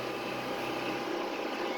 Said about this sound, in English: Sorry about the background noise, but I don't have cab tractors, so the one I'm on is my 9960.